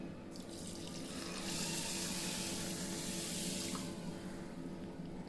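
Water is poured onto sugar to make syrup, a steady splashing trickle that swells into a fuller gushing pour for a few seconds before easing off, close and alone.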